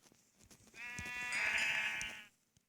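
A sheep bleats once in the Minecraft video game, a single wavering bleat of about a second and a half, fairly quiet, with no talk over it.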